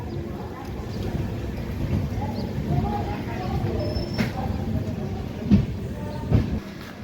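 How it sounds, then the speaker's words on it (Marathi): The Pune–Ernakulam Purna Express stands at Londa junction in monsoon weather, giving a steady broadband rumble with a few sharp clanks near the end and no clear speech. "आणि या ठिकाणी लोंढा जंक्शन इथे आपली ट्रेन जी आहे ती पोहोचलेली आहे."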